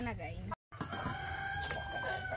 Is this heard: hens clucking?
yes